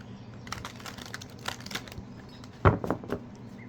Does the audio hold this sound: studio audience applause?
no